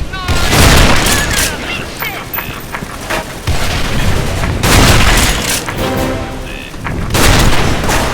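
Sniper gunfire in the online shooter S.K.I.L.L. Special Force 2: repeated sharp loud shots and booms in quick clusters across the clip, over game noise, with someone talking throughout.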